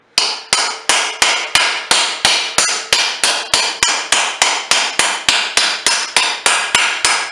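A metal hammer lightly taps an axle nut into place in a fast, even rhythm, about twenty sharp ringing taps in a row, loud and close.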